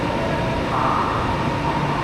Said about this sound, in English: there's another train coming in. So many bullet trains.